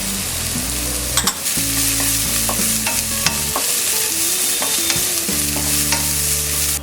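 Green chilies and curry leaves crackle and sizzle steadily in a hot pan with onions, broken by scraping stirs and occasional sharp taps of a spoon against the pan.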